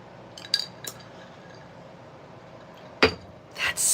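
Drinking glasses clinking at a live paint-and-chat podcast, a few sharp bright chinks spread apart, then a louder clink and some liquid or handling noise near the end, over a quiet room.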